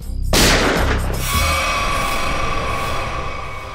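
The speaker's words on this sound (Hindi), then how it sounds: "गोली चली क्या?" A single sharp gunshot bursts out loudly, followed by a brief echoing boom and a lingering ringing tail.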